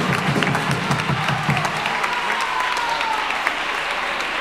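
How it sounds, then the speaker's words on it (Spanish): Audience applause at a carnival gala show fills the whole stretch, dense steady clapping from a crowd in a hall, loud and continuous without a break. "Un aplauso, hombre"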